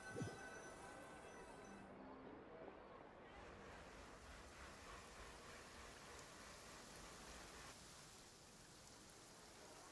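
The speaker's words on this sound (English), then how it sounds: "Oh, it's raining." Rain falling in a video game, a continuous broadband hiss of steady downpour with a windy, surf-like texture, heard alone at an even level throughout.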